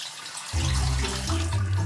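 Water suddenly starts gushing, a steady loud spray like a running shower, filling the clip with continuous hiss.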